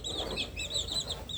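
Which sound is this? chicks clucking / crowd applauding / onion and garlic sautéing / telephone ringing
chicks clucking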